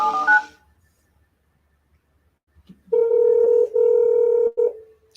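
A telephone call is placed: a short burst of tones, a pause of near silence, then two long steady ringback-style tones close and clear, with no voices.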